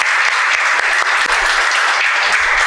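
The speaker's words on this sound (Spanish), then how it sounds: "aplaude duro el Señor" A church congregation claps loudly and continuously, a dense, even wall of applause filling the room with no voices over it.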